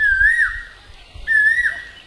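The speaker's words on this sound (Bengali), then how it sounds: "কোকিলের আওয়াজ শুনতে পাওয়া যাচ্ছে।" A koel (cuckoo) in a village setting gives two clear, rising whistled calls about a second apart, bright and fairly close over a quiet background with a low rumble.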